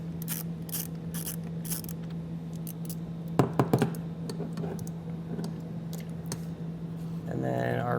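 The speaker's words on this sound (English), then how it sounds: "take a 10mm socket and you can loosen up the nut." A ratchet with a 10mm socket loosens a nut while fitting a battery charge line kit for a towed vehicle, giving brief clicking bursts over a steady hum and a low voice.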